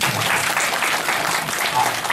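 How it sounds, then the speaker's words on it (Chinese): Audience applause at a community college opening ceremony in Keelung: a dense, steady wash of many hands clapping together, loud and sustained for a couple of seconds with no break. "大家给自己掌声鼓励"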